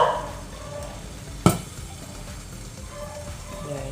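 Pork belly skin and fat fry in Salad Master cookware for lechon belly, a steady close sizzle with one sharp pop midway and soft crackling around it.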